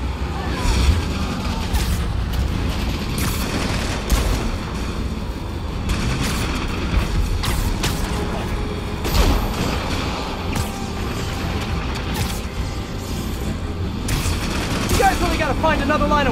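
Enemy gunfire in the Marvel's Spider-Man Remastered video game, a loud, dense stretch of rapid shots and booming blasts with engine-like rumble running steadily throughout.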